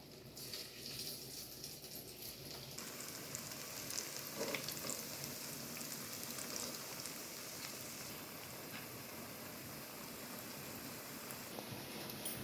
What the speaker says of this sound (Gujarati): હવે આપણે આ પાત્રા તરવા માટે મૂકી દઈશું.